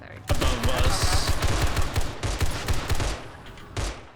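Rapid bursts of automatic gunfire crackle loudly and continuously in the video game 7 Days to Die, with a voice talking under the shooting.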